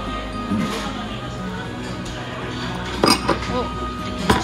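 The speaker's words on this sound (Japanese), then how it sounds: "ゆみちゃん、お皿取れる" A few light clinks of plates sound near the end, over a steady background hum and quiet chatter.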